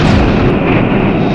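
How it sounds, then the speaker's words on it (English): An explosion effect from a Star Trek original series episode, a loud dense rumbling blast that fills the whole short moment without letup. "I love the rainbow color effects that they use for the explosions."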